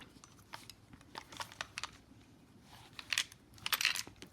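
Small metallic clicks and rattles come from a Marlin lever-action rifle as it is shaken to free a short .44 Russian round-nose cartridge stuck in a jammed carrier. The scattered taps are faint, with a busier clatter near the end.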